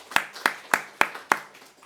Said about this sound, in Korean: 우리 3명 친구에게 박수하겠습니다.